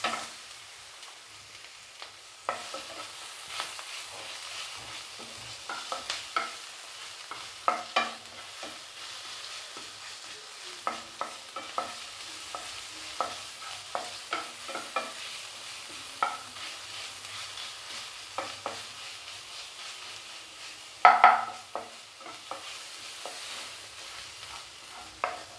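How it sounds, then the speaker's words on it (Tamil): Ginger garlic paste sautéing in a pan for a potato and coconut milk curry, a faint, steady sizzle broken by frequent spoon scrapes and taps against the pan, one louder clank late on. "ஸோ இப்போ இதை கொஞ்சம் நல்லா வதங்கட்டும் இஞ்சி பூண்டு பேஸ்ட்டு."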